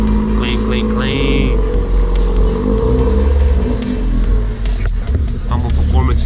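Honda Civic accelerating hard in second gear, a loud, continuous engine roar climbing in pitch, with voices talking over it.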